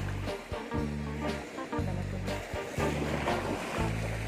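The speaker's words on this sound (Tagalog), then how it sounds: "lakas ang ano alon" Strong sea waves around a small fishing boat come as repeated slapping surges every second or so, over a low droning rumble of wind and engine, close and fairly loud.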